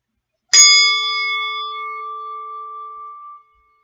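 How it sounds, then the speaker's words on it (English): A meditation bell is struck once and rings out clearly with a sustained, slowly fading metallic tone that decays for about three seconds in a quiet room. "I'm going to ring the bell in just a moment, and listen carefully."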